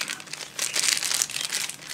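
A small plastic parcel bag from a China shipment crinkles close up in quick, crisp rustling bursts as it is handled, loud and alone for about two seconds.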